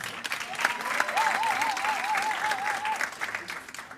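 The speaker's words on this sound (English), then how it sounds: "Let's give them a round of applause." Audience applause at a commencement ceremony, a steady burst of clapping from a crowd that swells and then tapers off over a few seconds, with a brief whistle-like tone ringing through it.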